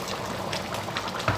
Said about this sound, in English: I'm going to be adding more water